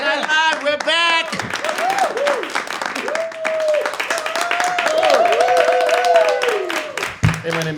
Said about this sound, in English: Keep the clapping going for your man, your host, Jeff Hyde.